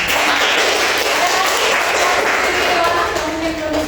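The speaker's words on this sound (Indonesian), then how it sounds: "tepuk tangan buat dia." Audience in a classroom during a mathematics teaching session claps steadily together, a dense, continuous round of applause.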